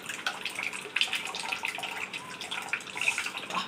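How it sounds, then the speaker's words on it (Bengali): Water draining off boiled taro leaves in a kitchen, a steady splashing trickle with scattered drips, close and fairly quiet, without talk. "এবার এই দেখেন বন্ধুরা, জলটা ফেলে নিচ্ছে কচুর।"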